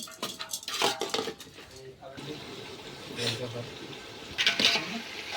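A spoon stirs spices and onion in a metal pan while batata pav is being cooked, with clinking and scraping of utensils against cookware. Someone talks nearby.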